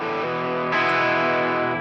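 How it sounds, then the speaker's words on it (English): A heavily distorted electric guitar through an amp plugin sustains a chord, then a new chord rings out brighter and louder, held to the end. "basically the sound of the guitar with the distortion and the amplifier"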